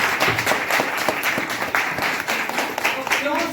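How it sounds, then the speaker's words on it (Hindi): Loud audience applause at a networking business seminar, a thick continuous clatter of many hands from a packed room, steady throughout with scattered voices in the crowd. "एक बार जोरदार ताली 5 साल के लिए"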